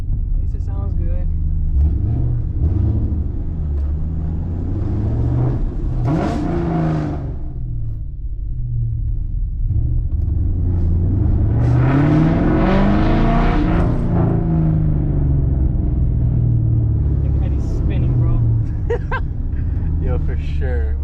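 Loud car exhaust revving at an outdoor car meet, rising bursts of engine roar over a constant low rumble, with people talking throughout.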